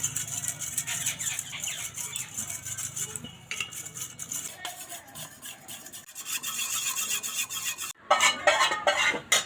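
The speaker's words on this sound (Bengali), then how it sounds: "এবার মিশিয়ে নেব কালারটা" A spoon scrapes and rubs around a bowl while red, yellow and green food colour is mixed into batter for jackfruit-leaf pitha, with repeated close, gritty strokes and clinks that grow louder and faster toward the end.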